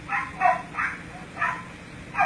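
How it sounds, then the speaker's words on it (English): A dog locked in a kennel barks five times in spaced bursts, each short and sharp at moderate distance, with no voices over it. "Hear the dog barking."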